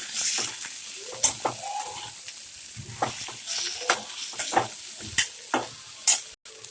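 Bitter gourd stir-fry with sesame seeds being tossed in a pan: a low frying hiss under repeated sharp spatula scrapes and clanks against the metal, close and fairly regular.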